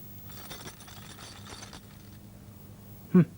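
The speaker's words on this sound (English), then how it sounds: "It's a set of keys." Small metal keys jingle and clink together in a light, rattling cluster, ending with a brief louder knock.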